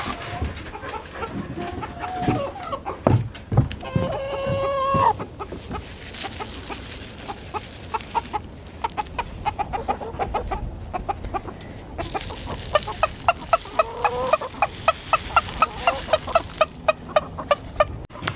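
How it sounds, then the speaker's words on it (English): Chickens cluck and squawk busily nearby as they are fed scratch, with sharp scattered clicks and pecking taps building into a rapid pattering toward the end. "First, let me give these chickens some scratch."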